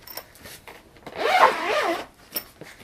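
A zipper on a violin case is pulled open in one close, rasping stroke lasting under a second, flanked by faint handling clicks and rustles.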